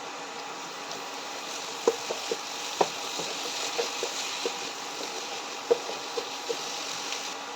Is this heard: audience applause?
no